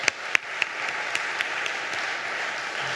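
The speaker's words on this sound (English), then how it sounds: "let's give them a round of applause" A church congregation applauds the choir at a Sunday service, a steady wash of many hands clapping with a few sharp nearby claps at the start, fairly loud and sustained for several seconds.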